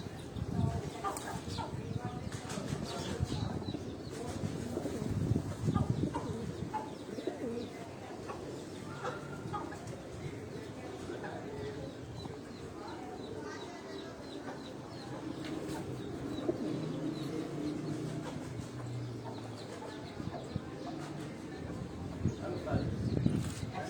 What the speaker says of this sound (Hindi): ये चीने कबूतर अगर आप देखें